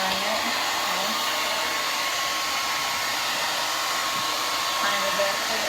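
A blow dryer drying hair, a steady loud whooshing hum that runs unbroken from start to end.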